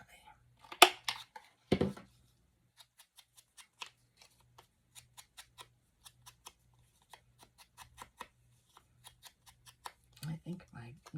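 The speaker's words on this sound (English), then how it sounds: "Now let's cut the corners" Scissors snip the corners off paper for a handmade April/Easter journal, a string of short, crisp, faint cuts spaced out over quiet, with a few louder rustles and handling noises.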